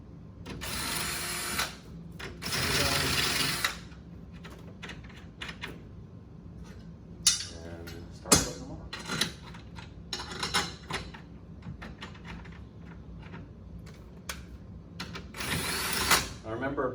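A handheld power drill, clutch set low, whirs in several bursts while it backs out the leveler bolts of an early solid-state pinball machine, with two longer runs early on, one near the end and scattered clicks and handling noises between.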